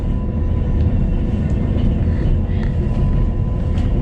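Steady low rumble of a White Pass & Yukon Route scenic train rolling slowly along the tracks near Skagway, Alaska, a continuous dense drone with faint higher squeaks, no voices.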